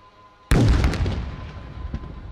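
A drone strike explodes on a helipad during a military demonstration: one sudden loud boom at a distance, followed by a long rumbling decay with faint crackles.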